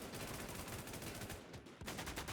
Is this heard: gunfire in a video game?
yes